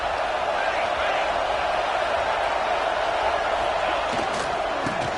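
Crowd noise from an NCAA football video game rises behind the defense on third down, a dense, steady stadium roar with scattered shouts. It runs throughout without a break.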